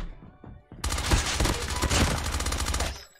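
Gunfire in the Call of Duty Mobile video game, a sudden, loud, sustained volley of rapid automatic shots after a quiet start, fading out at the end, with no talking.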